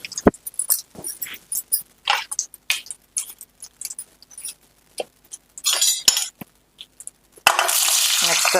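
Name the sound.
tempering dried red chillies, cumin and asafoetida frying in oil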